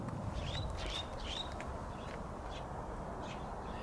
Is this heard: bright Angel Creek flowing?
no